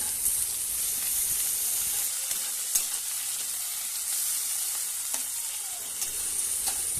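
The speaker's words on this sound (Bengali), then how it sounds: "এবার এর মধ্যে আদা রসুন পেস্টটা আমি দিয়ে দিচ্ছি।" Ginger-garlic paste sizzles and fries with onion and tomato in a pan, a steady bright hiss running throughout with a few brief stirring clinks, no talk.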